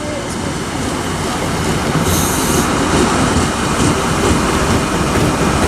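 A train passing through Didcot Parkway station on the Great Western line to Bristol Temple Meads, with a steady, loud rolling rumble of wheels on rails and brief squeals, close and continuous throughout.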